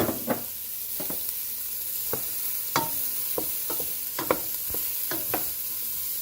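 Carrots and celery being stirred into a pot of vegetable quinoa soup, a dozen or so scraping strokes at an uneven rhythm over a soft low sizzle, close and fairly loud with no talking.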